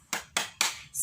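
Three sharp, evenly spaced claps from children in a third-grade classroom ring out in quick succession, followed by the start of a fourth, fairly close and crisp.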